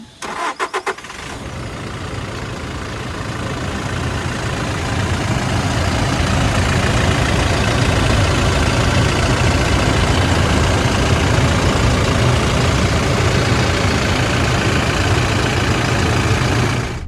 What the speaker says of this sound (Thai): มาาฟังเสียงสภาพ เครื่องยนต์ กันดีกว่านะคะ